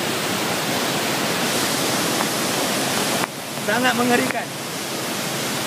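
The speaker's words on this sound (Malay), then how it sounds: "Semuanya ditenggelami oleh air, iaitu berlakunya limpahan dari parit ini." Floodwater overflows from a drain in Kajang with a loud, steady roar of rushing water that fills the scene, and a voice briefly speaks over it.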